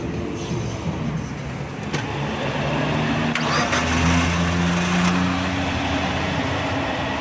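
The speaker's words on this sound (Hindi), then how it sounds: "चलें स्टार्ट करें गाड़ी।" A Maruti Alto VXR car engine, with a missing-at-top-speed fault, cranks and starts, then settles into a steady mid-pitched idle with a low hum, loud and close throughout.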